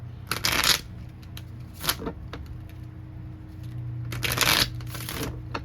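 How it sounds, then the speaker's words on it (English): Close-up riffling of shuffled tarot cards in three quick bursts separated by quieter pauses, with a faint low hum underneath. "Let me shuffle right quick."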